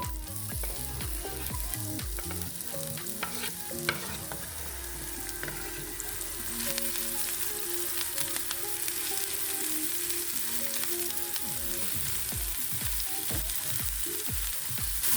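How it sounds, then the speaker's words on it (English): Sliced onions hit hot oil in a frying pan and sizzle steadily and close up for the whole stretch, with a constant crackling hiss and no one talking. "I've got some oil heating up here in the pan, and I'm just going to add those sliced onions right to the pan."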